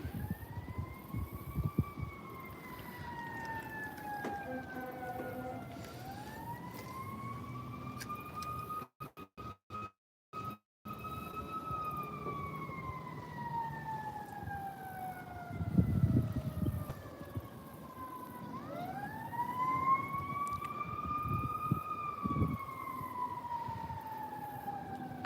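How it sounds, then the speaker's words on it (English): A fire truck siren wails in the distance with slow rising and falling sweeps, fading and returning over an outdoor fishing spot. Faint wind and handling noises sit beneath it. "No, that's a fire truck or something."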